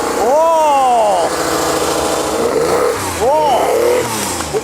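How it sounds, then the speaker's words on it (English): A Skoda Yeti modified as a budget fast car revs through a dirty single exit exhaust, two loud rising and falling blips close by, with excited voices talking over the engine throughout. "I love the fact that it's just got a dirty single exit exhaust as well"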